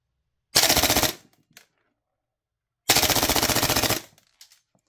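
A Tokyo Marui MWS airsoft gas blowback rifle with a standard bolt fires two short, rapid full-auto bursts, each lasting about half a second and separated by a brief pause, sharp and close with no talking.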